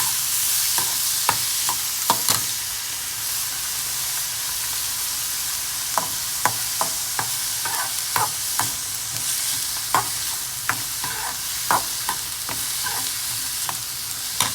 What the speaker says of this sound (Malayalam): നല്ല ബ്രൗൺ കളറിൽ വറുത്തെടുക്കണം